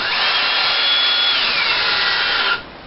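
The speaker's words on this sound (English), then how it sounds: "So hopefully this drill will open up big enough for that." A power drill whines loudly and steadily up close as it bores into a hollow gourd, its pitch shifting slightly before cutting off.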